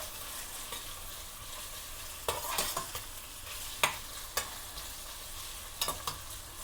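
Small onions sautéing in a pan with garlic and ginger give a steady soft sizzle, broken by a few sharp spatula scrapes and clicks as the mixture is stirred, with no talking.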